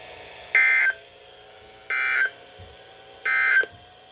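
NOAA weather radio warning alarm test sounds as three short, loud electronic tone bursts, evenly spaced about a second and a half apart, with a quiet hum in the gaps.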